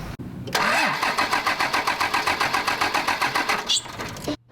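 A 2000 Dodge Ram 2500 24-valve Cummins turbo diesel with freshly installed injectors cranks over loud and close, a steady rapid chug of starter-driven compression pulses for several seconds before cutting off.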